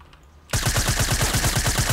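Rapid automatic gunfire in Fortnite erupts after half a second of near silence, a loud, steady burst of evenly spaced shots that runs to the end without a break.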